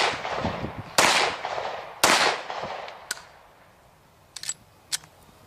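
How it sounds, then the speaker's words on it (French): Sharp reports from hand-loaded ammunition, including a weak squib load: two loud cracks a second apart, then a fainter pop and several small clicks trailing off, no talk. "that's an example of a squib load"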